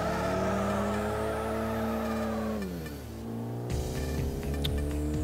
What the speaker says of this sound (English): Today we are testing the 2011 Suzuki SX4 Sportback from Forza Motorsport 4 doing a 1 mile drag on the Top Gear